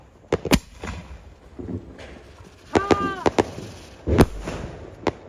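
A butterfly firework set off at a Diwali celebration gives several sharp bursts and crackles, with a whistling, spinning sound in the middle and more pops near the end. Excited voices shout nearby.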